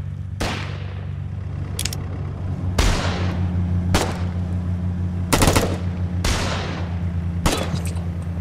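Gunfire in the Foxhole war game: loud sharp shots and bursts, roughly one every second or so, each ringing out over a steady low engine drone.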